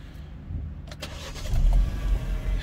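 A Vauxhall Mokka X Nav Elite with a 1.4 litre petrol engine and manual gearbox starts with a brief crank, then settles into a close, steady low idle.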